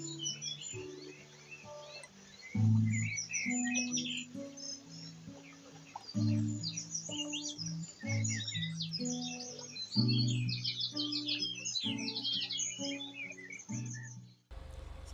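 A bird chirps busily at a nest that seems to hold young, with dense bursts of high tweets over a steady tonal background and no pauses.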